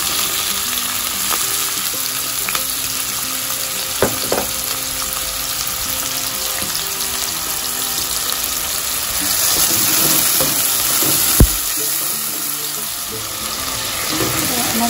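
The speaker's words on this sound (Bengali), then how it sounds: "তেল গরম হয়ে গেছে, এখন দিয়ে দিতেছি পেঁয়াজ।" Onion hits hot oil and fries with a dense, continuous sizzle, punctuated by a few sharp clinks and scrapes of a utensil against the pan as it is stirred, close and steady throughout.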